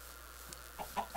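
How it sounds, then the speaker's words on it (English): A few short clucks from a Minecraft chicken, faint and spaced out over a quiet background. "Kill this little chicken."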